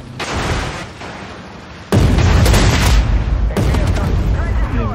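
A tank cannon in a video game fires with one sudden, loud, deep boom that rumbles on for several seconds, following a stretch of lower mechanical noise and faint talk.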